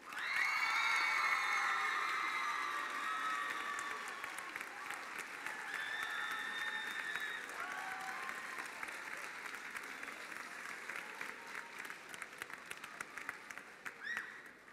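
Loud applause from a gala audience, with cheers and whoops rising at the start and then settling into steady clapping that carries on for the full stretch.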